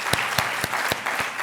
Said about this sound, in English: just a quick round of applause for John Wong